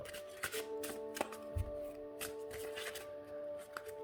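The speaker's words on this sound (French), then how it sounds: "les cartes glissent vachement bien" Oracle cards are shuffled by hand, giving a quick series of soft riffling flicks and slaps, close and fairly quiet, with a faint steady hum underneath and no talk.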